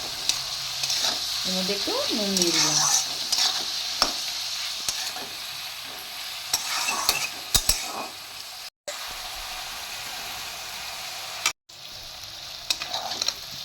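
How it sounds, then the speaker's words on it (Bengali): Onions sizzle in a pan while a spoon stirs them now and then during the cooking of a chicken bhuna. The frying crackle runs steadily throughout, and a voice speaks briefly over it. "পেঁয়াজটা ভাজা হয়ে গেছে"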